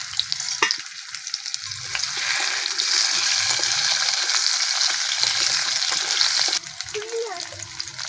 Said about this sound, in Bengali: এবার লম্বা লম্বা করে কেটে রাখা আলুগুলো দিয়ে দেবো।